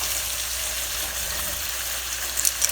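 Pork loin frying in a pan, a steady bright sizzle throughout with a couple of sharp pops near the end.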